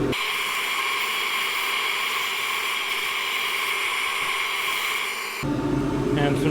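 Abrasive paper at 180 grit sands an old wooden table leg spinning on a lathe, making a steady, close hiss under a constant motor whine that stops abruptly near the end.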